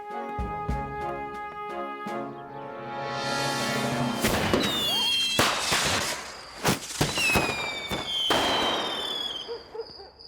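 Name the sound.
cartoon fireworks display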